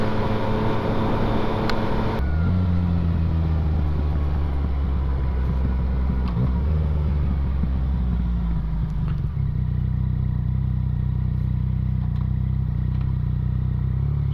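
A Yamaha XSR 900 motorcycle rides along a road with a rough surface under a gentle throttle, its steady engine drone loud and continuous, rising and falling slightly as it shifts and blending with wind roar, with no talking.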